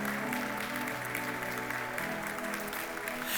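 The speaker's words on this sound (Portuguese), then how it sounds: "Você pode aplaudir ao Senhor." A church congregation applauds steadily, a continuous wash of clapping at moderate distance over a low sustained musical backing.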